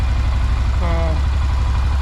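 A Honda Rincon ATV engine idles low after its dirty idle air control valve was cleaned, a steady, close, even rumble throughout with a faint brief tonal whine partway through.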